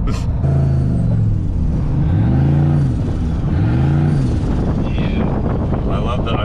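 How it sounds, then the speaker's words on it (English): Turbo whistle and blow-off valve bursts from a sleeper turbocharged 2003 Yukon XL at the drag strip, mixed into loud, steady engine and wind roar, with people talking over it. "I love the unnecessary turbo noise and blow off valve sounds exactly"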